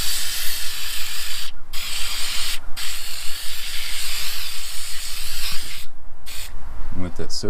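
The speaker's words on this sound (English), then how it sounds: "I'm spraying some of this battery cleaner on here" Battery cleaner hisses from a spray can onto a corroded terminal of a 2015 Toyota RAV4, coming in several short close bursts with pauses and a few clicks at the end.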